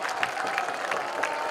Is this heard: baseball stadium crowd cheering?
yes